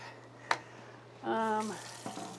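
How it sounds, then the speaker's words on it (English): Drained gluten-free pasta is rinsed under a running tap: a sharp clack, then a brief stream of water splashing into a sink, fairly close and fading out. "So now I am going to drain and rinse, which I don't normally do with pasta"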